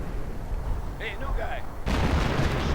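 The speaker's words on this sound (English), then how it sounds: "And now artillery once more is flying. Probably right here at this mortar." Artillery shells landing near a mortar position in a World War II strategy video game, dull booming impacts with a louder burst near the end, under a speaking voice.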